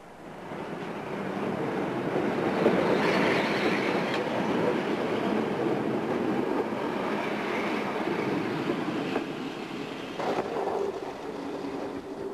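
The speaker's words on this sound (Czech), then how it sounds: "osobní vlak v čele s lokomotivou" A passenger train hauled by a T444-0101 diesel locomotive rumbles past close by on a local branch line, a long steady roar of wheels and carriages building quickly and holding, with occasional clicks and a faint squeal.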